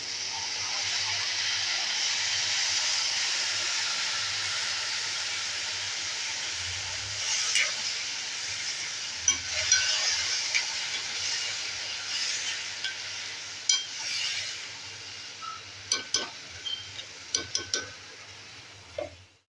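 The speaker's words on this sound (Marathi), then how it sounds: "आता आपली भाजी तर फोडणीला घालून झाली आहे" Ghevda beans tipped into a hot tempering for a traditional bhaji made without onion or garlic give off a steady, fairly loud sizzle, with scattered clinks and scrapes of stirring growing more frequent toward the end.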